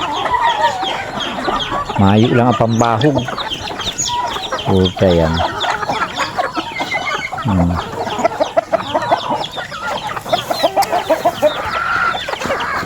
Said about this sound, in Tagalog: Ang manok yun o.